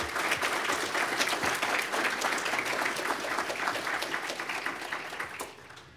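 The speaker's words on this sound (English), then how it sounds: "let's give these guys a round of applause" Audience at a comics forum keynote event applauds, a dense burst of clapping filling the room for several seconds, then thinning and fading near the end.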